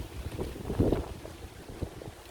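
Gusty wind buffeting a microphone outdoors, low rumbling bursts rising and falling, loudest in a strong gust near the start.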